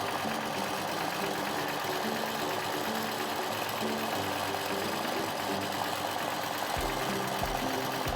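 A sewing machine runs steadily while stitching a starburst design on a quilt, a loud continuous motor hum with a rapid needle chatter and brief pitch changes near the end.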